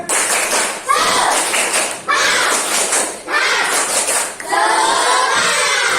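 A classroom of students does a patterned spirit clap in three or four loud rhythmic bursts with brief gaps, their voices chanting and shouting over the clapping.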